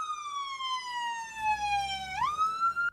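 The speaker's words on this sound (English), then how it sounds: "It might sound like an ambulance, but it's actually one of Onslow County's 4 QRVs, or quick response vehicles, for community paramedics." A community paramedic quick response vehicle in Onslow County sounds an electronic siren, one long wail sliding slowly downward and then sweeping sharply back up, loud and close with faint road rumble beneath.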